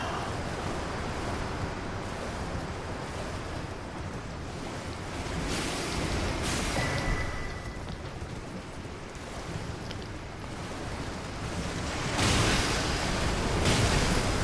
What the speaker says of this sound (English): this waterfall right here